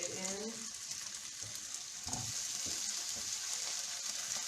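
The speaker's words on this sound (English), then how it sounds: "So you just want to saute these until they start to" Cherry tomatoes sautéing in a pan for butter Tuscan shrimp, giving a steady broadband sizzle throughout, with light stirring clatter and a few low voice-like murmurs mixed in.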